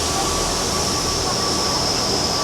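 A train at Edinburgh Waverley railway station sends out a continuous loud rumble with a high metallic whine and squeal of wheels on track, close and steady throughout, with no voices.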